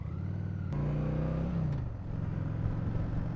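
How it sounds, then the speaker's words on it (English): A 2016 Honda Shadow Phantom motorcycle idles and revs nearby, its exhaust giving a steady low thumping rumble with a slight rise and fall in engine pitch, heard alone without talk. "Exhaust sounds pretty damn good on this. I will say it's got a nice little thump to it."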